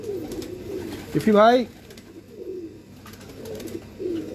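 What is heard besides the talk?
pigeons cooing on a rooftop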